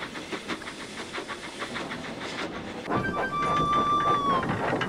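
A train rolls steadily along the track with a rhythmic clatter of wheels and a steady hiss, growing louder and closer near the end as a high metallic squeal of brakes or wheels rings out.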